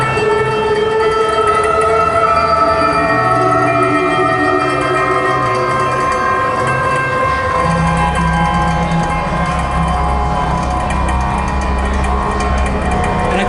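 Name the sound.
Omni synth morphing bouncing ball, screwdriver piano string, fly, voice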